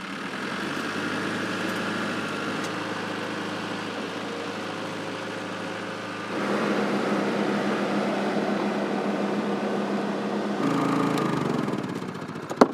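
Generator running to power an off-grid house, a steady mechanical drone throughout that grows slightly louder and fuller about halfway through, with a minor shift near the end.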